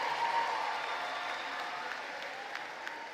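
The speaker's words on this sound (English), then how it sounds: "Let's give all of our honors graduates a round of applause." Graduation ceremony crowd applauding honors graduates, a moderate, fairly distant clapping that fades gradually over a few seconds.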